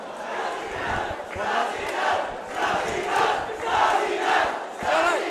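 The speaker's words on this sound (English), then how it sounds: "The Snazzy Naz fans have come out in their numbers tonight." A large crowd at a welterweight championship fight in Bradford roars and cheers in rhythmic swells, chanting in repeated surges, loud and reverberant like an arena.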